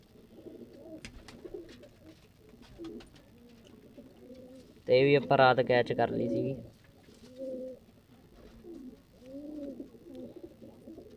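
Pigeons coo softly in repeated low rolling phrases, including a red chinni female pigeon, while someone talks over them in the middle.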